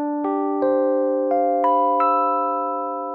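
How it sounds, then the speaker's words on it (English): Dry, unprocessed piano playing a short sequence of five clear, sustained notes with ringing harmonics, each struck cleanly and left to decay, close and moderately loud with no other sound. "And so again, the dry piano sounds a little like this."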